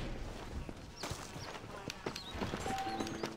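Horse hooves clip-clopping in the Western video game Red Dead Redemption, a soft irregular patter of steps under game ambience, with brief voices and a few whistle-like tones.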